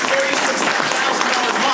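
An audience at an Agent Resource Group final expense sales event stands and applauds for Robbie Hilton, a steady, dense wash of clapping throughout.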